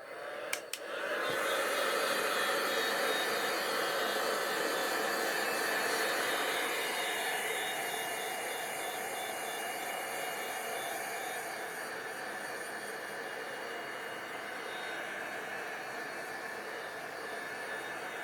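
A hair dryer blows on fresh paint on a craft project, a loud, continuous whoosh that starts abruptly after a click and holds steady, easing slightly partway through.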